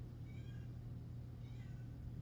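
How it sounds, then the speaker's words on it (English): A house cat meows twice, faint and somewhat distant, each call a short rising-falling cry, over a steady low hum with no talk. "You hear my cat?"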